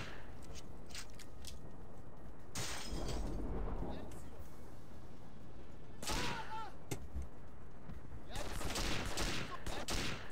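Enemy gunfire in James Bond 007 Nightfire comes in sharp bursts of shots spread through a busy game scene, with heavier volleys near the end. Someone talks over much of the action.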